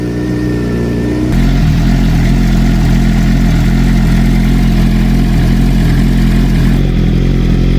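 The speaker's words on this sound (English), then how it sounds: "we just need to let it get up to full temperature now, and then we'll turn the bike off" A Suzuki GSX-R 600 motorcycle engine runs to warm up, a loud, close, steady idle that steps up to a fuller, deeper drone after a second and holds there.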